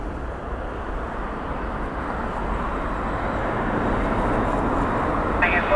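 Aircraft at Dublin Airport's runway 16 during crosswind landings, a steady broad roar of engine and rushing noise that holds at an even level throughout and swells slightly toward the end.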